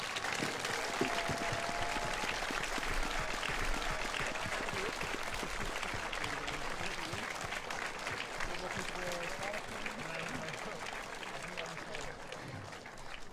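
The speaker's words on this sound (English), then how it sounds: "one final round of applause to all of the wonderful engineers behind me," A crowd at the DUT25 engineering team's roll-out event applauds the team, dense and continuous clapping sustained for over ten seconds at fairly close range.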